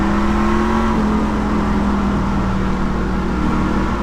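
Truck-series race engines in the iRacing sim at North Wilkesboro, a continuous loud roar with a whining tone that dips and shifts as the pack runs, no talk.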